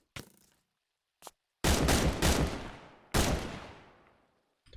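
Gunshots in a modded Minecraft world: a couple of sharp faint cracks, then two loud booming blasts that each roll off into a long decaying echo.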